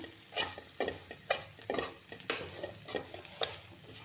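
Wild vegetable from a climbing vine being stir-fried with freshly grated coconut in a pan, with a soft sizzle under repeated scraping strokes of a spatula, close and irregular.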